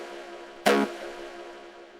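A single dry acid synth shot for a techno drop hits once, short and buzzy, with a bright attack that cuts off quickly, leaving only faint background hiss.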